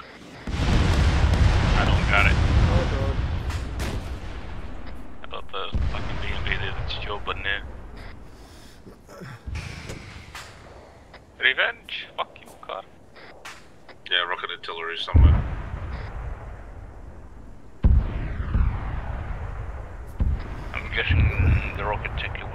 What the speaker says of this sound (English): Maybe the rocket artillery.